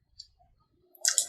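A computer mouse click in drafting software, heard as a few faint, sharp ticks at the start, then a louder cluster of clicks near the end in a quiet room.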